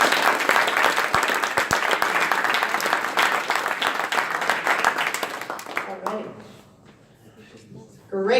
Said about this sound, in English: So big, big round of applause again for them,